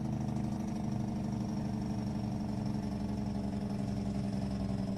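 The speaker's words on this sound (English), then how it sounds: "Let's hit that Jake brake a little bit" Low, steady engine rumble from a truck using its Jake brake in American Truck Simulator, an even drone that holds for several seconds with no speech.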